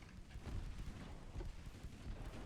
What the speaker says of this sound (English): Stormy seas, rainy weather.